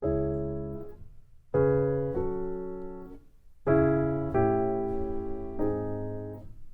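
Soft piano chords, each struck gently and left to ring and fade before the next, a slow unhurried sequence played alone.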